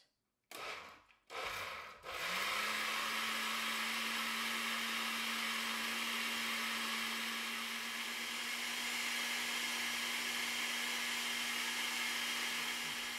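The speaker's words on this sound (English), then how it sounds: "We have blended a good 3-4 minutes something, and now we will filter it." A modified blender grinding soybeans with water for soy milk: a few brief start-up bursts, then a loud, steady, close roaring whir with a constant motor hum that runs on alone.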